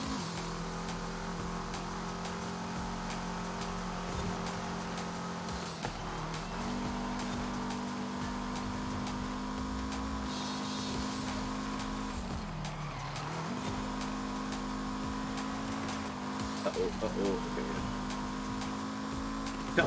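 A Volkswagen Scirocco engine drones steadily in a racing video game, its pitch rising through the gears with brief dips at shifts, tires squealing through corners, the sound continuous and fairly quiet with almost no talk.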